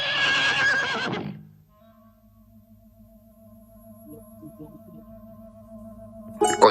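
In a 1967 Soviet animated fairy tale, a horse gives a loud whinny at the start, then fades into quiet. Low sustained tones follow and grow slightly toward a short burst at the end.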